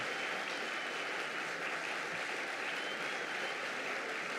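Warm, steady applause fills a conference hall at a colloquium, a dense, continuous clapping from a sizeable audience that holds even throughout with no talk over it.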